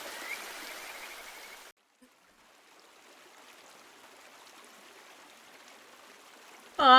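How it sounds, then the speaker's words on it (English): Boiling water bubbling in the video game The Silent Kingdom, a steady soft burbling hiss with no talk over it, briefly cut off and resuming before a louder burst at the end. "The water is boiling."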